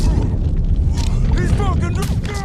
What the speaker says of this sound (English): Drop a grenade on that son of a bitch. Grenade going out!